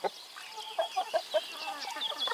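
Hens in a backyard potato garden cluck in a quick series of short, fairly close calls, with scattered higher squawks over a quiet background.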